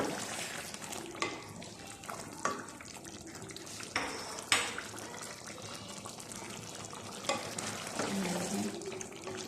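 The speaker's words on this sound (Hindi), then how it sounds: "ये देखें अच्छे से भून चुका है, अच्छे से भून लिया हमने इसको, ऑयल भी अलग हो चुका है।" Chicken karahi fries in oil in a pan, with a steady close sizzle broken by several sharp stirring scrapes and spatters; no one speaks.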